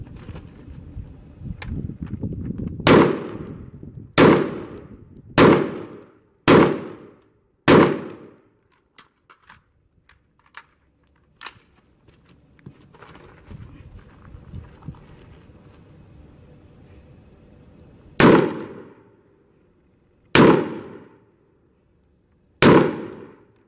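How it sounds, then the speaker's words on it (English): Rifle fire on a shooting range during a timed prone string: loud, close single shots spaced a second or two apart, five in quick succession, a pause, then three more, with wind noise between. "Engage the target with 5 rounds prone in a time limit of 65 seconds."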